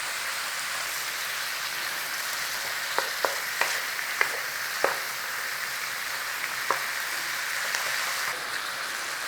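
A Turkish pide filling sizzles steadily in a hot pan, a constant bright frying hiss broken by a few sharp scrapes and knocks of stirring.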